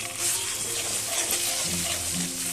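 Masala frying in a pan for a foli fish recipe, a continuous close sizzle with soft stirring motion over a low background hum.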